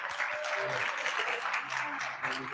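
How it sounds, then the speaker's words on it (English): Applause from an audience at a community leadership award presentation during a remembrance day event, steady and continuous throughout, moderately loud and filling the room. "Let's give him a round of applause."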